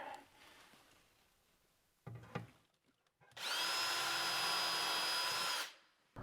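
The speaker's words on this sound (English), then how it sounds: "we will use a VIX bit to do this with my Thundering Great drill right here" A power drill with a Vix bit whirs up loudly for about two seconds, boring a hole steadily with a high whine, after a few brief knocks and a short quiet stretch.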